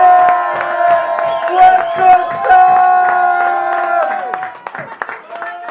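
A crowd in Poitiers breaks into loud, sustained applause and cheering for the performer, with whoops and clapping layered over music and a voice speaking through it.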